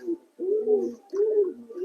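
Pigeons on a rooftop before release give low, rolling coos, three drawn-out calls in slow succession, close and clear against a quiet background.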